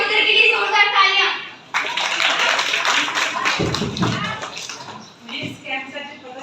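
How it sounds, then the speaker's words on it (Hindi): An audience at a camp closing ceremony bursts into loud applause between stretches of someone speaking. The clapping swells into a dense roar of hands, then fades as talk resumes. "मदद के लिए जोरदार तालियां"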